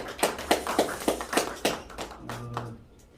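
A small audience at a church ministry lecture claps in thanks for the professor. It starts as a short run of distinct, fairly close claps, then fades to a few scattered taps with a low hum underneath.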